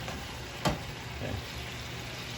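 Sauce simmering and reducing in a pan while a steak dinner is cooked, a soft steady bubbling sizzle with one sharp clink or stir near the start and a faint second stir after.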